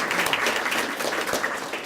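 An audience at a medical center event applauds, giving a brief, even wash of clapping that holds steady throughout.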